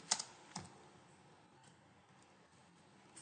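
Someone types a git commit message on a computer keyboard, with a few sharper key strikes at the start followed by a steady patter of soft, close keystrokes.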